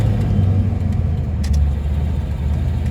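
Truck engine idling steadily up close with a deep, continuous low rumble and slight fluctuations, after running rough on a cold evening start-up.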